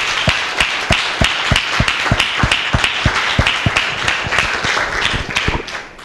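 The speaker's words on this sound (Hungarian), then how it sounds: "So give a round of applause and once again welcome Dr. Lim to address the guest." An audience at a presentation claps together in rhythm, loud and steady beats with scattered clapping between them, fading near the end.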